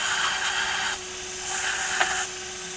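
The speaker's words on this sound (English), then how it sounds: "Definitely got to turn down the speed on your small wheel attachments" A small wheel attachment spins on a rotary tool during work on a square point straight razor, giving a steady high-pitched whine that dips briefly and returns, close and loud with no talking.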